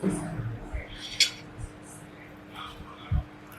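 A spoon clinks and scrapes against a dish at a KFC meal, giving a few light metallic taps close by, with faint chewing and quiet background noise between them.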